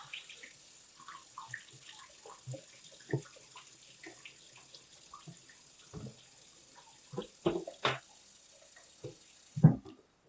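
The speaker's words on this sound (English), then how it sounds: "just start pouring some water in, dilute that lime solution before you go sticking your hands in there, and then just start pouring it off" Water runs and splashes into a sink while nixtamalized Hopi blue corn is rinsed to dilute the lime solution, heard as faint, intermittent pours and clinks with sharper splashes near the end, with no talking.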